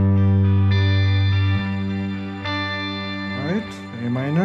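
An electric guitar plays a groove of plain, standard chords through an effects unit with distortion, ringing strums changing every second or so, with slides near the end.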